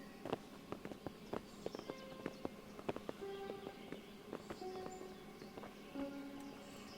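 Horses' hooves clip-clopping in Kingdom Come: Deliverance, a steady, fairly quiet patter of hoofbeats on hard ground with a faint tonal background underneath.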